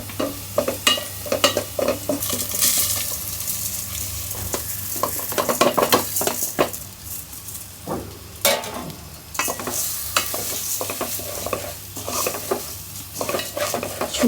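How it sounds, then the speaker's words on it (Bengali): Rice frying and being stirred in a pot for khichuri, a steady sizzle broken by repeated scraping and clinking of a spoon against the metal, close up with no talking. "সুন্দর করে চালটা এখন ভেজে নেব"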